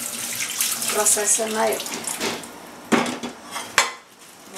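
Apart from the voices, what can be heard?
washing a Polishop iChef Shark Series pan under running tap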